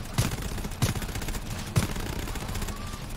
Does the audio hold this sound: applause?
no